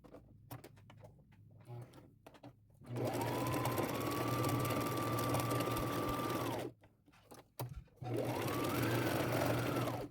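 A sewing machine stitches a quarter-inch seam on a layered ruffle crossbody purse, running in two long steady bursts with a short pause between them. Quieter handling noises come before the first run.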